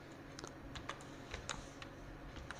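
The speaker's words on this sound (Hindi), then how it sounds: "हमने यहाँ पर राजकुमार टाइप कर लिया।" Quiet keystrokes on a computer keyboard while entering text into an Excel spreadsheet, a brisk, uneven run of light clicks with no talking.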